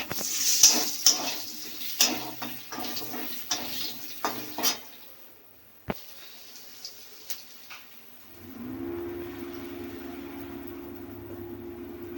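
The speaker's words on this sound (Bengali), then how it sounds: "এই যে আলুটা আগে দিলাম, আলুটা দিয়ে আগে ভেজে নেব।" Potato pieces frying with five-spice seeds in a pan, stirred with repeated scraping taps of a spatula, then a pause and a soft steady sizzle as eggplant goes in.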